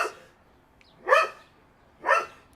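A pet dog barks at a neighbor: two sharp, separate barks about a second apart, fairly close and clear, with a faint trailing bark at the start and no talking.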